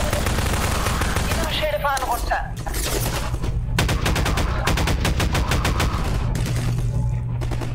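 Rapid automatic gunfire from the video game Half-Life 2 rattles in loud, sustained bursts with brief pauses between them, accompanied by ringing metallic impacts.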